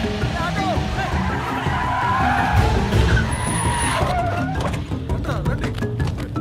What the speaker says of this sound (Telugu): ఆటోలో వెళ్ళిపోతుంది.